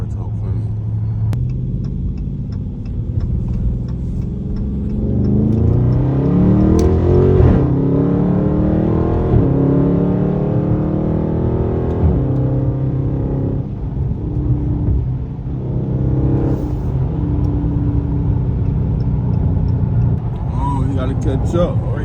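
A Dodge Scat Pack's engine revs and accelerates hard, a loud, close rumbling roar whose pitch climbs in repeated surges over about twenty seconds, with a voice talking at points beneath the engine.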